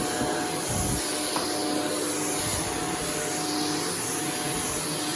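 A Shark Duo Clean vacuum cleaner running over long pile carpet indoors, a steady loud whooshing hum with airy hiss and slight shifts as it is pushed, no talk.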